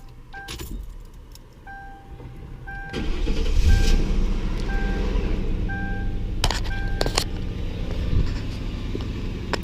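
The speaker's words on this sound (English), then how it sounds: "start it up so you can hear what it sounds like." Keys jangle and then a Ford Crown Victoria engine cranks and catches, settling into a smooth, steady idle with a few sharp clicks and knocks nearby; a chime repeats early on.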